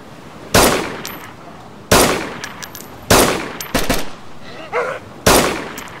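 Gunfire in DayZ: four sharp, loud rifle shots spaced roughly a second or more apart, each with a short echoing tail, plus a few fainter clanks between them.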